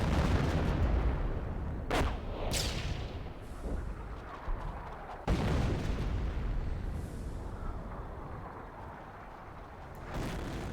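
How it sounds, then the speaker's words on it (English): Hummel artillery barrage in Company of Heroes, a WWII strategy game battle: heavy booming shell impacts and rumbling explosions, with sharp blasts near two, two and a half and five seconds and another late, over continuous battlefield din. "And here comes a Hummel barrage."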